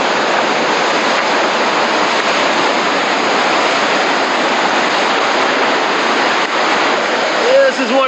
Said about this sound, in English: This is one of those user-friendly hydraulics known as Jaws, also known as Beat Me Daddy.